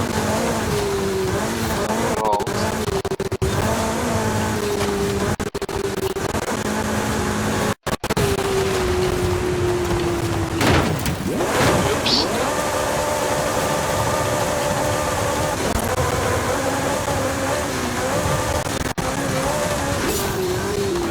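Jeep engine in the racing game Forza Horizon 5 during an offroad run, a loud droning motor whose pitch climbs and drops with gear changes, a sharp rev sweep midway, steady and close throughout.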